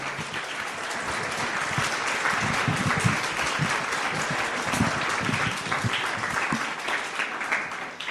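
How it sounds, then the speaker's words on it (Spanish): A church congregation claps loudly and continuously for the Lord, with the rapid overlapping hand claps holding an even level throughout and a few voices faint underneath. "Dáselo fuerte al Señor ese aplauso."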